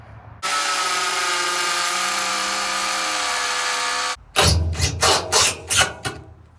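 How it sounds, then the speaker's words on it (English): A power drill whines steadily for about four seconds, then gives several short bursts as a screw is driven into a poured concrete foundation, close and loud. "You pre-drill a hole and you screw these right in."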